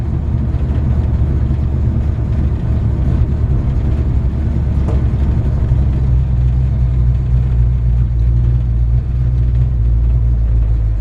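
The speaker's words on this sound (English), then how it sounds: "It's got an incredible sounding engine." A 1954 Chevy 3100 short-bed pickup truck engine runs with a slightly high idle, giving a steady, loud, deep rumble that continues evenly throughout.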